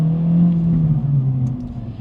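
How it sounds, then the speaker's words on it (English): A 2025 Acura Integra Type S exhaust burbles and revs with a deep, throaty rumble, close and loud, the pitch rising and falling briefly. "Oh, that exhaust, it just never gets old."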